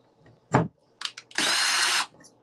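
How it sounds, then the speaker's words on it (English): Power drill boring holes for a craft project, a brief close thump and short bursts, then a loud sustained whirring run of under a second before stopping. "I drilled the holes too fat"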